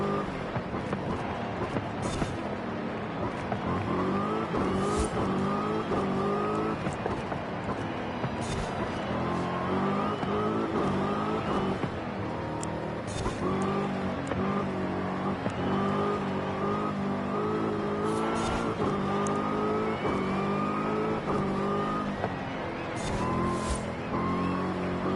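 Race car engines in a Forza Horizon 5 lap race, several cars revving and droning loudly with rising and falling gear-shift whines in a steady, continuous roar, joined by occasional sharp clicks.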